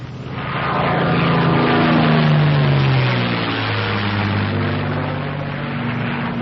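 A North American P-51 Mustang propeller fighter in flight drones loudly and steadily while being pulled into an accelerated stall, its engine tone sliding lower and swelling, then easing slightly toward the end.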